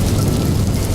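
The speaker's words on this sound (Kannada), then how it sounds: "ಮಳೆಯ ಹನಿಗಳು ಕಿಟಕಿಯ ಮೇಲೆ ಬಡಿತಾ ಇದ್ವು." Rain beats on a window of a London apartment on a cold night, with thunder in a storm, heard as a loud, steady low rumble and wash of rain throughout one brief second.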